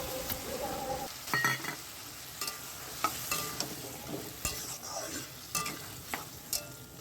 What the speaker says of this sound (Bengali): আলু ভাজা অনেকটাই হয়ে গেছে, সর্ষেটা দিয়ে দেবো